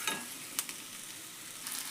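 Vegetables for a bitter gourd stuffed-curry dish frying in oil in a pan, a soft continuous hiss with a couple of brief spatters and stirring scrapes, quiet and close with no speech.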